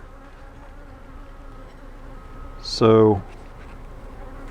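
A single honey bee buzzes loudly right beside the microphone at a hive for a moment, a short rising drone over a faint steady background hum; a voice briefly speaks.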